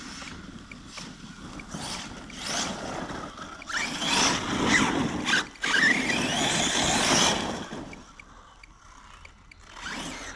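Arrma Kraton 6S RC car running at a practice site with a new ramp, its electric motor whining in bursts that swell and fade, with wind, rough scrabbling and clatter, moderately loud and uneven.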